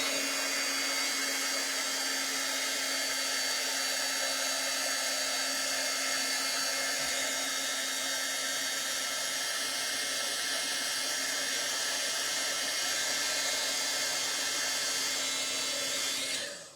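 Heat tool blowing steadily while melting embossing powder on a Christmas treat slider gift box, a constant close whooshing hum with a high whine that runs unbroken for the whole stretch, then cuts off.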